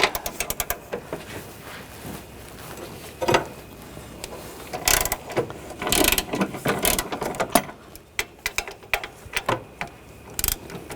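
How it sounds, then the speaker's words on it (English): A ratchet with an 18mm socket loosens the engine mount bolts on a 2014-2020 Nissan Rogue 2.5L. Close, irregular clicking sets and metallic taps repeat throughout, with brief louder bursts in the middle. "Using a 18mm socket, loosen up these bolts"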